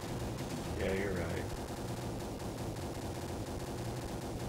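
Shotgun fire from the Sega Genesis version of Terminator 2: The Arcade Game, a dense, steady barrage of blasts running throughout, mixed with game sounds and with voices talking over it.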